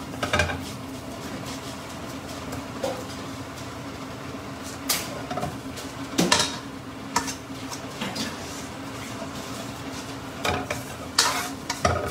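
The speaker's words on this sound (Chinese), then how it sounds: "放煎炸酱啊，每一条都要煎到的" Pork ribs sizzle as they are pan-fried, a steady soft frying hiss broken by occasional louder clinks and scrapes of a utensil against the pan, heard close with no voices.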